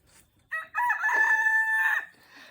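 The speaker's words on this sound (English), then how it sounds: "We got several cluckers back here by the shed." A backyard chicken flock by a shed, with one rooster giving a single loud, close crow of about a second and a half that rises and holds steady before cutting off, with quiet yard sounds around it.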